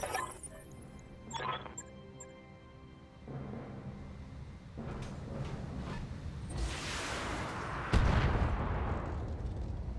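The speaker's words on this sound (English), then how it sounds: "That's their tandem missiles." Tandem missiles firing in the BattleTech video game, a series of rumbling launches and blasts that build from sparse thumps to a heavy, sustained roar with a sharp loud burst near the end, no talk.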